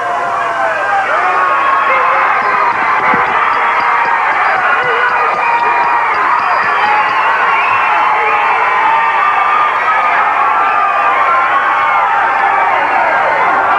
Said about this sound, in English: This crowd has gone absolutely berserk.